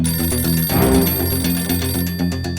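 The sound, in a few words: telephone ringing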